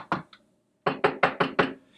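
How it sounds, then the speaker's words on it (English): Knuckles rap on wood, two quick knocks, a pause, then five evenly spaced knocks, crisp and close with no talking. "knock on wood"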